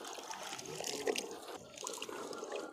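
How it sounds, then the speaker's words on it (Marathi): Raw turmeric roots being rinsed by hand in a basin of water, with steady splashing and sloshing that swells and fades, close and fairly loud, with no talking. "बागीश्री बघू शकता तुम्ही एकाच पाण्यात धुत आहे आपण आता दुसऱ्या पाण्याने धुवायची"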